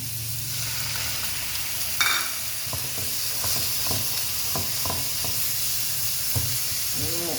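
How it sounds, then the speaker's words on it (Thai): Minced pork sizzles and hisses steadily in a hot pan as it is stir-fried with a splash of water for a Thai chili paste, with scattered scraping and tapping of a utensil against the pan. "รวนหมูนะคะ"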